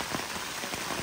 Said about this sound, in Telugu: కుండపోత వర్షం అంటారు కదా, ఆ రేంజ్లో ఉంది.